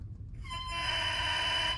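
An oboe's double reed blown on its own, off the instrument, producing a crow: a thin, squawky, buzzing tone held steadily for about a second and a half, close and fairly quiet.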